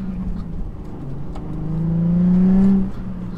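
A car engine revs up from idle as the driver accelerates, a rising hum that swells and peaks, then drops back; close and loud with no talking.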